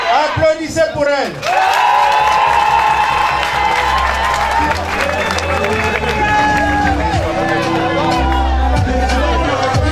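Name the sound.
wedding guests applauding and cheering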